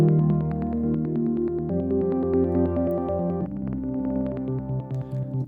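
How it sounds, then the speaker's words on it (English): Plectrum Keys preset on the Retro Synth, played soloed through the Output Portal plugin, gives plucked, bright keyboard chords with a throbbing rhythmic pulse, shifting through three chord changes, loud and steady with no talk. "rhythmic effect happening that's actually coming from this plugin called Portal"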